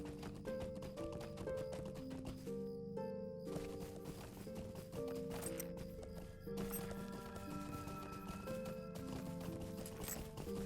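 Horse hooves clip-clopping in the Lord of the Rings Online game, a steady rhythmic trot of hoofbeats over a looping musical soundtrack, moderately loud with no talk.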